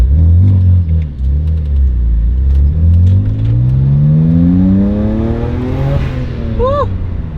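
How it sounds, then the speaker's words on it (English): BMW 335i with an N54 engine and Burger Tuning DCI intake revving up loudly and close, pitch climbing steadily through the gears with a rising whir, then a sharp chirp at the end. "Definitely you can hear the induction noise a lot better."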